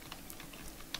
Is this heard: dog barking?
no